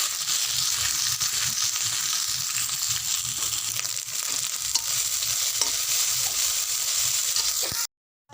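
Ginger paste and cumin paste fry in oil while being stirred, a steady close sizzle with scraping and squelching spatula strokes for several seconds before cutting off abruptly.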